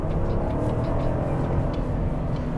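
The 6.2-liter V8 of a 2021 Chevrolet Suburban High Country rumbles deep and steady from inside the cabin, a continuous low throaty drone with no talking.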